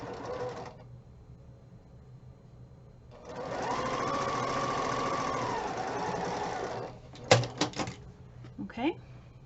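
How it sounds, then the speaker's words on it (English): Sewing machine stitching a Christmas quilt block, a short burst followed by a longer steady mechanical whirr, then a few clicks and rustles as the fabric is handled, with a voice talking around it. "We're going to sew from the top right to the, it's not really the bottom left, I guess the middle bottom left."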